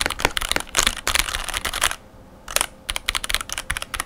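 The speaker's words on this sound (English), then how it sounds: "You can probably tell it sounds lubed, but it sounds like a thin lube sound." Rapid typing on a mechanical keyboard with spray-lubed switches gives close, crisp clacks in quick bursts with a thin, lightly damped tone, broken by one short pause.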